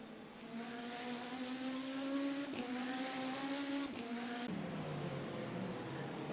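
A race car engine in the sim racing game Le Mans Ultimate holds a steady, loud, droning pitch, with gear-shift steps and a drop in revs near the end.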